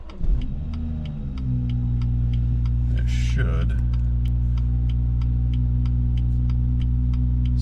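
A BMW with a B58 engine, just repaired after a coolant leak, settles into a steady, loud idle with a constant low drone and faint regular ticking. A brief burst of noise breaks in partway through, and a voice speaks briefly at the start.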